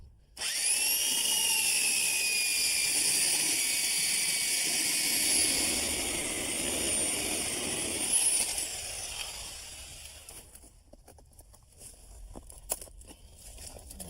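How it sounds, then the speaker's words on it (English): A power drill with a hole saw whines loudly and steadily for about ten seconds as it cuts through house clapboard, then stops, leaving faint scraping and handling noises. "I'm using a hole saw to cut the hole for our exhaust pipe"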